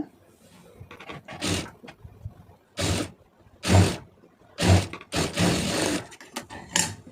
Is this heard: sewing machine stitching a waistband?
yes